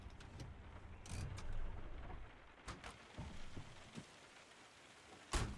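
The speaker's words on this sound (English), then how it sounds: "It's nice and rainy." Steady rain falling in the ArmA Reforger video game world, a soft constant hiss with occasional sharper drops and louder gusty bursts, faint and unaccompanied by voices.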